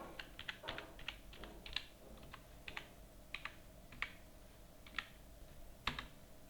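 Soft, close computer keyboard typing in quick irregular clusters, short bursts of key clicks with brief pauses between, fairly faint and with no voices.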